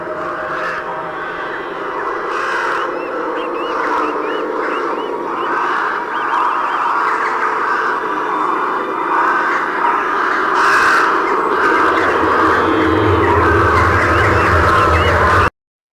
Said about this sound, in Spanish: una prueba de sonido que demuestra cómo suenan las aves infectadas